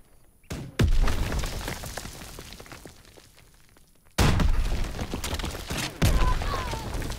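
Rocket explosions in Call of Duty: WWII, loud booming blasts with heavy low rumble, one after another, each leaving a long decaying roar.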